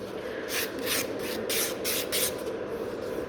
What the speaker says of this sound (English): File one side and file the other side to get those nice V shape.